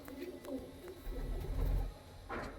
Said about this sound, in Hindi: एक कबूतर ये लो भाई, लाल चीना कबूतर है भाई